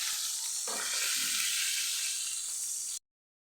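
Homemade luncheon meat fries in hot oil, giving a steady, close sizzle with a brief stir partway through before the sound cuts off abruptly to silence.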